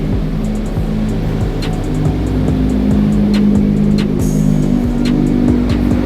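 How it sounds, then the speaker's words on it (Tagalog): A Nissan GT-R rolls slowly into a car wash, its engine a steady low rumble close by, with faint ticking and clicking sounds over the top and no talking. "ito na, papasok na ang ating kotse."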